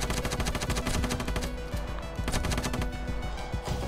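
Rapid, dense gunfire from a Ravenfield video game firefight in a zombie-infested Fallout-style bunker, with overlapping bursts and single shots cracking near and loud almost without pause.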